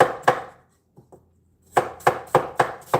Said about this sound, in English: So you're just going to want this thinly sliced.